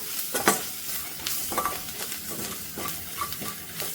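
Pepper masala sizzles steadily in a pan while a spoon stirs it, with soft scraping and light clinks against the metal over the continuous frying hiss.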